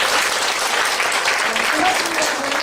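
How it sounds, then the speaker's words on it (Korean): An audience at a Korean book-launch talk claps steadily to welcome a guest to the stage, with faint voices mixed in. "박수로 한번 맞아주세요"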